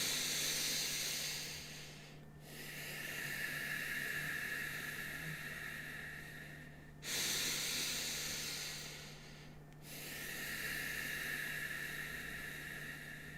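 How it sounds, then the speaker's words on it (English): Slow, rhythmic breathing in and out through the nose makes long, steady airy hisses in a quiet room, with each exhale drawn out longer than the inhale and only brief gaps between breaths. "just a straight flowing of inhale and exhale, making that exhale at least 2 seconds longer than your inhale"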